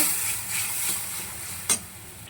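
Tomato, garlic, onion, ginger and green and red chillies frying in a pan as they are stirred, giving a steady soft sizzle with a brief sharper scrape near the end.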